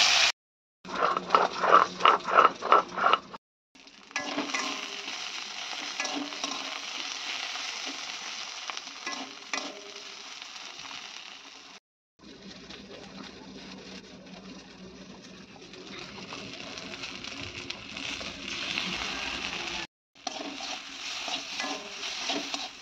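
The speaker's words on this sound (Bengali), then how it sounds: "ঢ্যাঁড়সটা কেটে দিয়েছে, কড়ার মধ্যে দিয়ে দিয়েছি তেল" Cut okra fries in oil in a wok, a dense close sizzle that runs in long stretches broken by brief pauses, with a quick series of rhythmic clatters near the start and no speech.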